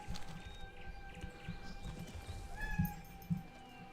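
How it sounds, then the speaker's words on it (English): A pet cat meowing indoors, a couple of short, faint mews near the end over quiet background noise and soft thuds. "If you hadn't even heard my cat there"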